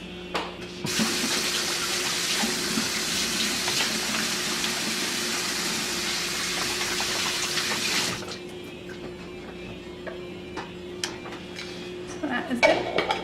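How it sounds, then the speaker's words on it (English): A kitchen tap gushes steadily into a sink for about seven seconds while hands are washed, then shuts off, leaving a few light clinks of dishes and utensils nearby. "I need to wash my hands right now"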